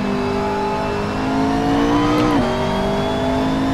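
A McLaren MP4-12C GT3 race car engine drones in Assetto Corsa at St-Jovite, Mont-Tremblant, a steady harmonic whine that dips briefly as the revs change, then holds on, loud and alone.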